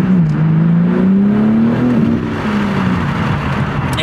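A BMW M car fitted with an M Performance exhaust accelerates hard, its engine note climbing steadily and loud and close for several seconds, then easing slightly, with no talk over it.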